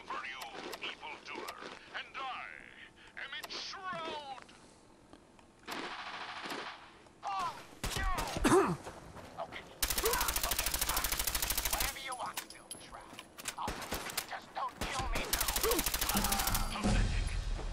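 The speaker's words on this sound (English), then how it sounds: "Mang, stop shooting at me." Enemy gunfire in Fallout 4, including a rust devil encounter: scattered shots give way to long, loud, sustained automatic bursts, mixed with game effects and someone talking between the volleys.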